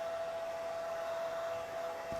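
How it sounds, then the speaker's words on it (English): Small hair dryer blowing steadily on freshly painted EVA foam cosplay prop, a continuous close whooshing airflow with a faint motor whine, constant and uninterrupted with no voices. "I'll take a little hair dryer to this real quick here."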